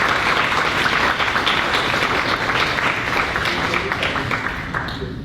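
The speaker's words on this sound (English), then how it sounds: "Please join me one more time in giving a warm round of applause for our speakers." A Chamber of Commerce business appreciation audience gives its speakers a warm round of applause, dense steady clapping from a large crowd throughout, tapering off slightly near the end.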